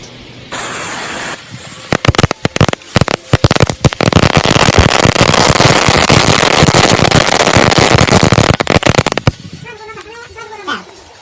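A long, loud string of 1,000 firecrackers set off beneath an iPhone X crackles and pops rapidly for several seconds, then stops abruptly, leaving quiet with faint voices.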